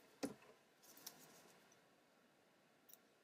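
Scissors cut thread while sewing a zombie doll pin cushion: one sharp snip near the start and a couple of fainter clicks later, quiet and close, with no speech.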